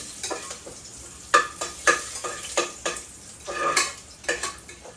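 Whole spices and a bay leaf fry in ghee in a pan, with a soft steady sizzle under repeated stirring scrapes and light clinks of a utensil against the pan, close by with no talk.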